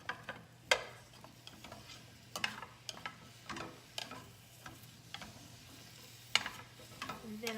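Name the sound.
mushrooms stirred and sizzling in olive oil in a pan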